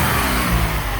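An Opel Lotus Omega car engine runs loud and close, a steady rumbling drone that swells slightly as if briefly revved.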